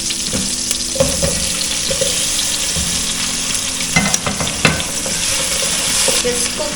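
Tomatoes cooking in a pan for pork sinigang, a Filipino dish, with steady sizzling and frying and repeated stirring scrapes close by, with no talk.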